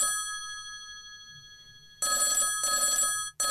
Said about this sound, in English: Phone's still ringing.